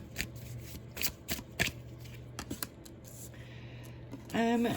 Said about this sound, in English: I'm trying to mix these cards up a little bit.